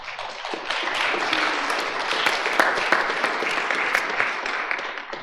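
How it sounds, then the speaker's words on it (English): Audience applause at a male chorus spring concert, steady dense clapping that fills the whole stretch at moderate loudness, with no talk over it. "So please give them a round of applause."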